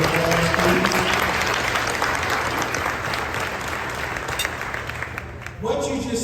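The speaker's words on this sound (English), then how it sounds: "can you give our board another round of applause, please?" Dense, sustained audience applause for a board at a Communities In Schools of Atlanta event, loud and steady throughout before tapering near the end.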